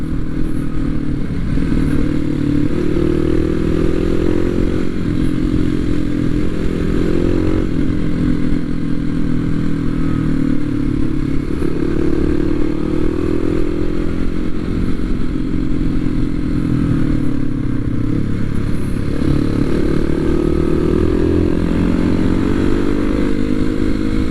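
A motorcycle descends winding mountain curves from Khao Khiao in Khao Yai, its engine droning loud and close without pause, pitch rising and falling slightly with gear changes and throttle.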